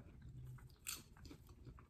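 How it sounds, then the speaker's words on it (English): Microwave popcorn bitten and chewed close up, with soft crunching and munching in a quick, irregular rhythm and one sharper crunch partway through. "try to crunch these"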